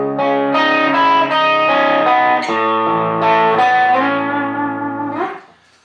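An electric guitar with effects and distortion plays a riff, sustained ringing chords and a moving line over a held bass note, loud and alone, fading out at the end.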